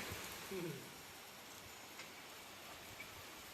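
Rain falls steadily in a village on a rainy day, a faint, even hiss with scattered soft ticks, and a voice murmurs briefly at the start.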